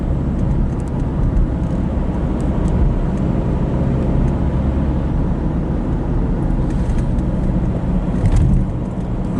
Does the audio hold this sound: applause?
no